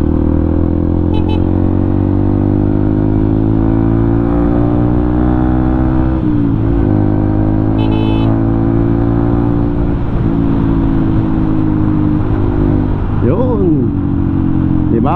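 A car drives along an open, traffic-free road in Cagayan de Oro, its steady engine drone and road rumble continuous throughout, with a brief clatter partway through and a voice talking over it.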